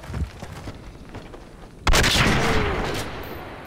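Video game gunfire cracks in a sharp loud burst partway through, following quieter scattered shots and background noise, with the blast ringing out and slowly fading.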